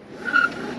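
Brief screeching tire skid from a LiveWire electric motorcycle doing a burnout, rising to a sharp squeal and fading within a second, with no engine roar.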